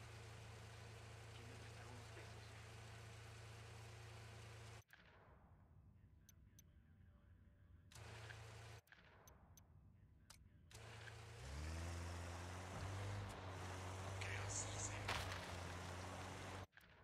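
A car in the shooter Ghost Recon Wildlands idles and drones with cuts in and out, then revs and accelerates with a rising, steady engine tone, loud and close.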